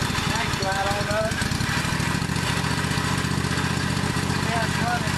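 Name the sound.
1998 Husqvarna riding lawn mower engine running, surging on choke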